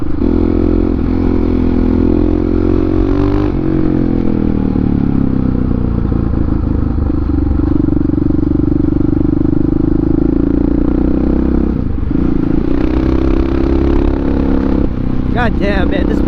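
Supermoto motorcycle ridden hard, its engine roaring loud and close with rising and falling revs, plus wind rush and rattles, and a rider's voice over the top.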